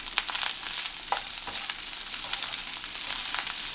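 Nigerian party fried rice stirred in a buttered pan, a bright continuous sizzle with scraping strokes of the spoon, close and loud, no voices.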